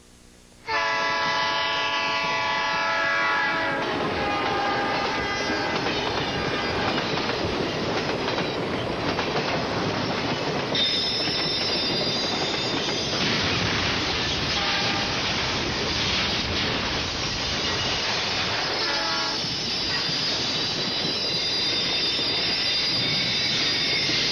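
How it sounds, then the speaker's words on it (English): A train rumbles past close by, wheels squealing and clattering on the rails, with a horn sounding briefly, loud and continuous throughout. "I also did hear the sound of a train"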